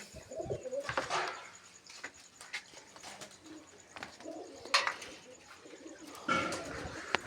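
Pigeons coo in low, soft, intermittent calls at a moderate distance, with scattered rustling and chirps, and no speech.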